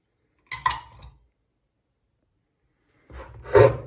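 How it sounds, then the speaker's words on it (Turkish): Dry beans are poured from a bowl into a pot in two short bursts, a rattling, clattering patter against metal with silence between. "Ve onun üzerine de bir kase kuru fasulye ilave ediyoruz."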